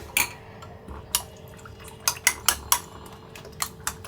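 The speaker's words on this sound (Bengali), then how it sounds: "সবাই সবার জন্য একবারে ছয়টা ডিম আমি গুলাই নিলাম" Six eggs being beaten with onion, green chili and tomato in a bowl, a run of sharp utensil clinks and taps against the dish, some quick clusters, close and fairly clear with no talking.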